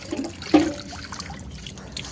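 Water gushes and trickles from a borewell hand pump at a home, with a brief louder splash and clank near the middle, fairly close and without talk.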